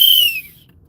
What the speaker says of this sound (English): Hey, I got a whistle.